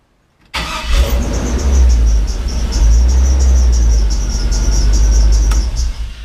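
A 1979 Chevy K20 Squarebody truck, fitted with a new stall converter and serpentine belt, cuts in loudly after a brief silence and drives on with a steady, close engine drone and a faint high whine.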